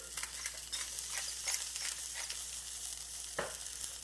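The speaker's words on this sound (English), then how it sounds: "And continue stirring." French scrambled eggs being stirred in a pot, with a soft steady sizzle and faint scraping strokes throughout, one sharper clink near the end, no voices.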